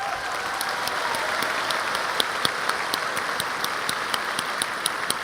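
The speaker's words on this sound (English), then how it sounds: "You got another huge round of applause for that." Audience applause fills a gala hall at a 30th anniversary celebration, steady dense clapping throughout with a few sharper claps standing out, no talk over it.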